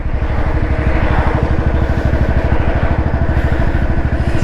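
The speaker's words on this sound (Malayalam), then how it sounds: "നമുക്ക് ടോപ്പ് ഗിയറിൽ ഇതേമാതിരി പതുക്കെ ഇങ്ങനെ ഗിയർ മാറ്റാതെ പോകും" A Royal Enfield BS4 Standard with 43,000 km on it rides slowly in top gear at about 40 km/h, its single-cylinder engine thumping in a steady, fast, even beat that stays loud and close throughout.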